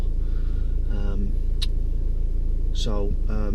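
BMW 318d Sport Plus diesel driving on carriageways, a constant low engine and road hum from inside the cabin, steady throughout while someone speaks over it in short bursts.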